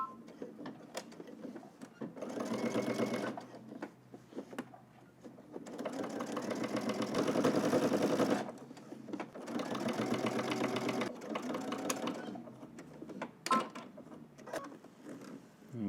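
Sewing machine understitching a seam on a cropped jacket, running in several bursts of fast, even stitching with short pauses between runs, quiet and close with no talking.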